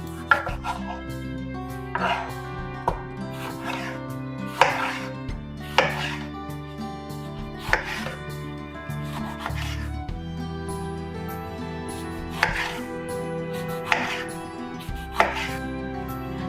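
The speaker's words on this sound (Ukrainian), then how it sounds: "Нарізаємо апельсин на невеликі шматочки." A knife chops a juicy, sweet orange with its peel into small pieces on a board, giving a steady series of crisp, close knocks with a faint background hum.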